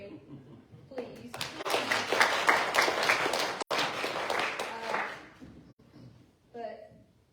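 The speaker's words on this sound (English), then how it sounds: "give a round of applause for Jason for dealing with us for 4 days straight" Audience applause for Jason at a Sunday morning gathering, a burst of many hands clapping that swells, holds for several seconds and fades, with talking around it.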